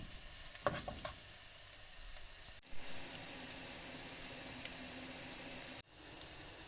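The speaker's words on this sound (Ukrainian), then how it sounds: "Цибуля вже обсмажилася, додаємо нарізану кубиками шинку. І обсмажуємо ще кілька хвилин." Diced ham and onion sizzle steadily in a hot pan, a continuous crackling fry with a few clinks of a utensil stirring.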